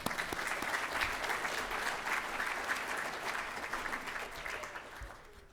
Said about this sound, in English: Round of applause to them, guys.